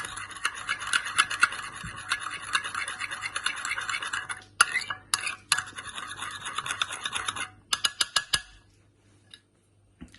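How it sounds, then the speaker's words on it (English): Spoon whisking a sauce together in a bowl for vegan wok-fried greens, rapid close scraping and clinking strokes that grow choppy, then stop with a few final taps. "So we're just going to mix that all together."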